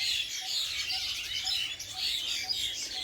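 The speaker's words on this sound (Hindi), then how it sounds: "ये बांस में बहुत सारे चिड़िया हैं।" A dense, continuous chorus of many small birds chirping in bamboo, high-pitched tweets overlapping throughout at moderate distance with no pauses.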